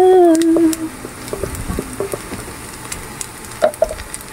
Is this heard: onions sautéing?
yes